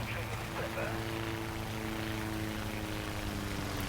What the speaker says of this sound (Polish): Może się uda ukryć przed tym samolotem.